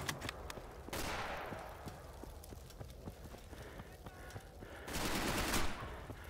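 Automatic rifle fire in the multiplayer video game Mare Nostrum, sharp shots and short bursts scattered across the stretch with footsteps and a louder volley near the end, with faint talk in the background.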